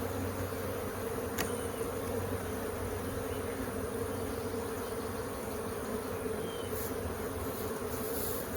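A honeybee swarm buzzes steadily around a flowerpot swarm trap during a move into a new hive, a dense continuous hum that stays even and close throughout with no talking.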